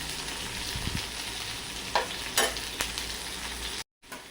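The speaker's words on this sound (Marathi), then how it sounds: "पनीर आपल्याला चांगलं याला कलर आणायचा आहे, व्यवस्थित परतून घ्यायचं आहे." Paneer pieces frying in oil for a fasting-style vegetable dish, with a steady sizzle throughout and a few scraping stirs, then a brief cut to silence near the end.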